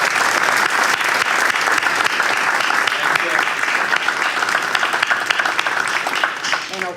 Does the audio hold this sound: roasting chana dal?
no